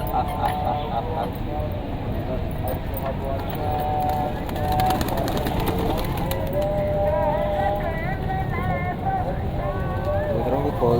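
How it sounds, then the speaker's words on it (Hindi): Soft pigeon coos recur amid a busy background of voices and movement, with people talking throughout. "कबूतरों को खोल दिया"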